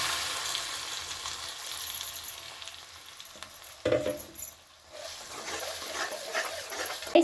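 Onion and tomato purée fry in oil for an egg curry masala, making a close, continuous sizzle with stirring. A few sharper clatters of utensils break in partway through.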